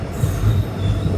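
A goods train hauled by a locomotive rolls through Namakkal railway station. The wheels rumble loudly and steadily, with a low grinding squeal close by.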